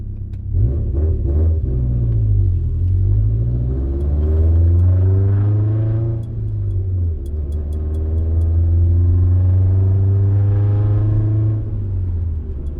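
A Subaru Forester STI with a turbo and a boost controller accelerates hard through third gear. The engine drone is loud and close and climbs steadily in pitch, eases briefly midway, then pulls again.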